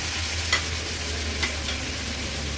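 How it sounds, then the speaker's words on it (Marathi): Homemade Agri Koli masala and turmeric sautéing in hot oil for a fish curry: a constant close sizzle with a few soft stirring scrapes, no voices. "एक चमचा आपला हा घरचा आगरी कोळी मसाला हळद आणि मसाला तेलावर छान परतून घ्यायचा आहे"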